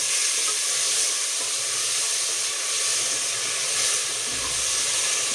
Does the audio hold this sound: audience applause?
no